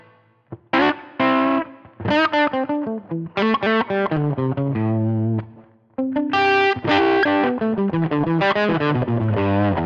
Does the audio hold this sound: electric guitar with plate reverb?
yes